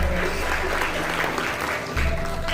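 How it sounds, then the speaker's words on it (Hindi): A crowd applauds with steady clapping, moderately loud and continuous, with a faint voice underneath. "जोरदार तालियों से स्वागत करेंगे"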